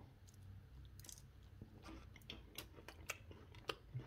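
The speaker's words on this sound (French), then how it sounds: "On sent les petites graines de figue qui craquent bien sous la dent." Crunchy fig shortbread biscuits, still a little warm, chewed close up with crisp crackles from the fig seeds, a steady series of small bites and crunches heard quietly without talk.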